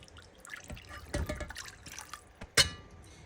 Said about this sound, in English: Pour out the stock in here.